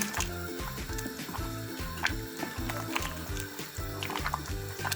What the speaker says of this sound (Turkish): Devamlı karıştıracağız.